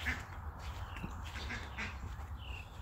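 Ducks near a porch give a few scattered quacks at mid distance over a low, steady background rumble, fairly faint and with no talking.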